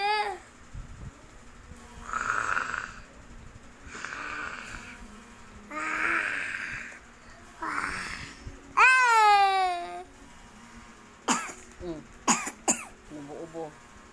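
A few short coughs among breathy vocal sounds and a baby's whimpering cries, with clicks and shuffling nearby.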